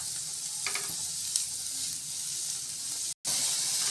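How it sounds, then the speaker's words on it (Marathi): Mushrooms fry in butter with a loud, close, continuous sizzle and hiss, a few light stirring clicks, and a brief cut to silence near the end. "छान बटरमध्ये फ्राय करून घ्यायची। आता आपल्याला त्यामध्ये आपण घेतलेले मशरूम ॲड करायचे"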